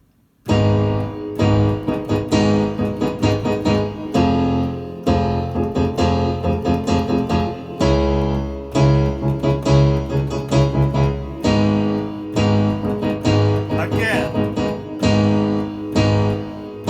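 Piano playing a march with both hands together, a steady left-hand bass under the melody, loud and close, with no talking.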